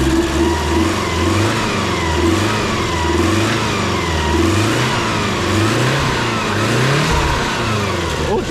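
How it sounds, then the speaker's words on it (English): A JDM EJ20 engine in a Subaru WRX revs repeatedly in rising and falling sweeps, its idle rough and uneven with a stumbling misfire, loud and close with no talking. "Why does it sound like it's misfiring?"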